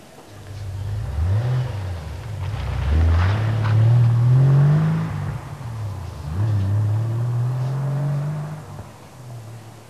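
A Ferrari Testarossa toy car with a fibreglass body revs its engine in two long, rising sweeps, each climbing in pitch and falling away, loud and close with no talking.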